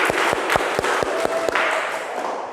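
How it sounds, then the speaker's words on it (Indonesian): Classroom applause for a student group after their presentation, a burst of scattered hand claps with sharp individual slaps standing out early, steady for a couple of seconds then thinning out. "Beri aplaus untuk kelompok 1."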